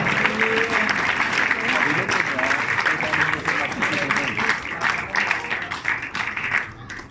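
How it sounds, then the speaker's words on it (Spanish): A church congregation applauds during a Spanish-language service, sustained clapping across the whole stretch with voices and exclamations mixed in above it. "Denle fuerte ese aplauso al Señor"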